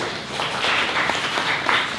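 A small audience at an alumni entrepreneurship sharing session applauds, producing a soft, fairly distant patter of clapping that holds steady for about two seconds.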